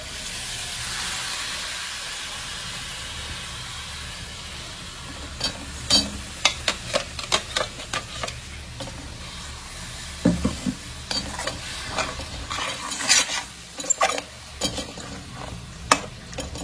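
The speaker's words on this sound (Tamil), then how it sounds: "இதுக்கப்புறம் நம்ம இதில் வந்து தக்காளி பேஸ்ட் ஆட் பண்ண போகிறோம்" Tomato paste hitting a pan of frying biryani masala, giving a soft steady sizzle and hiss with scattered sharp clicks and scrapes of stirring, close by and with no one speaking.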